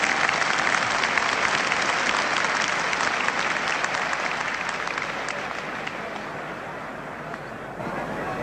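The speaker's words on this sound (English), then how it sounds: "It's great to hear appreciation of the crowd" A large crowd at a 1973 rugby match in Dublin, with New Zealand's All Blacks playing, applauds loudly and steadily, the dense clapping and cheering easing slightly toward the end.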